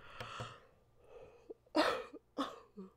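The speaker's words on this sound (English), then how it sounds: "I had to cough there" A few sharp coughs burst out close by, separated by short pauses and quiet breathing.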